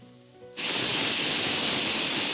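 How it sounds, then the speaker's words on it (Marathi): Finely chopped onions, salted, dropped into a hot pan with a sudden loud burst of hissing sizzle that then holds steady and strong, following a brief quieter stretch with faint background tones. "आता ह्याच्यात 3 बारीक चिरलेले कांदे घालून घेऊया."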